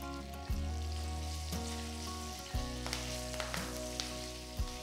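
Mustard seeds crackle and splutter in hot oil with a steady sizzle, broken by a few sharper pops.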